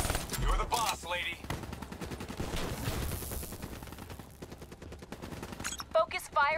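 Bursts of automatic weapon fire crackle through a Call of Duty: Black Ops III firefight, steady rapid shots mixed with game effects while a voice talks over the action.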